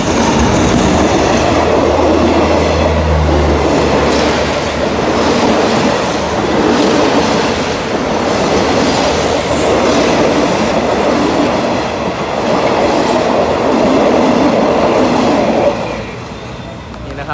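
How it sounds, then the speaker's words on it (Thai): Alsthom diesel locomotive 4149 hauling express train 84 from Trang toward Bangkok near Ban Pong station, a loud, close, continuous rumble of wheels and wagons rolling past with rhythmic clatter that drops away near the end. "อันต้อม4149นะครับทำขบวนด่วนที่84นะครับต้นทางตรังไปทางกรุงเทพนะครับกำลังจะเข้าจอดที่สถานีบ้านโป่งนะครับ"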